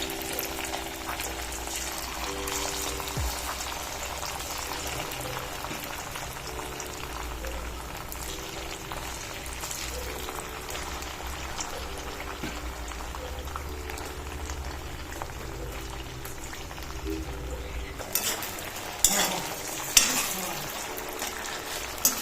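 Chicken pieces fry in hot oil, a continuous dense sizzle and bubbling that holds steady throughout, with a few louder clatters near the end, no talk.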